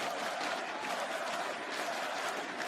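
An esports arena crowd at IEM Katowice 2019 cheering and applauding during a NiP timeout in a Counter-Strike quarter-final, a dense, steady wall of distant crowd roar without distinct voices.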